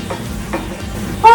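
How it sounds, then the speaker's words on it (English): Mushrooms in a pan with their juices starting to release, a soft close sizzle broken by a few scraping stirs and a sharper clatter at the end. "we're going to heat this up until the juices of the mushrooms release"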